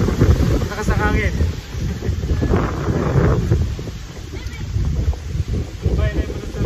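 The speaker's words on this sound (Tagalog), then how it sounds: "Lakas ang hangin." Strong storm wind buffets the microphone outdoors in Batangas during a typhoon as trees topple, a steady loud low rumble with gusts, while voices speak over it.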